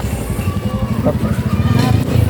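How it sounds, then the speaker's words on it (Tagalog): A motorcycle passes on a trafficky road, its engine a low, rhythmic pulsing putter that grows slightly louder toward the end, under a nearby person speaking. "Ay, may motor."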